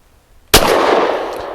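A Walther PDP Match steel-frame pistol fires a single 147-grain round, one sharp close report followed by a short decaying echo.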